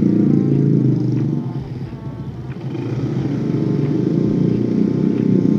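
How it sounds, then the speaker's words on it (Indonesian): A Kawasaki ZX-25R motorcycle engine drones steadily and fairly loud, with a dip in level midway as it passes by before the rumble rises again. "ZX 25R suaranya enak ya"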